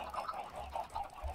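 A chicken in the Minecraft video game makes a short series of nasal, honking clucks in an irregular rhythm, fairly close and alone with no talking.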